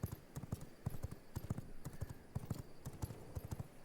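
Horse hooves clip-clopping steadily in the video game V Rising, a quick even rhythm of close, crisp thuds continuing throughout, alone without talk.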